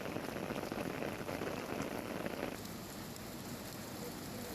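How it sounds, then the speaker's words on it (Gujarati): Rain falls over Amreli city in a faint, even, continuous hiss that eases slightly partway through, with no voices. "અમરેલી શહેરમાં વરસાદ થયો છે શરૂ।"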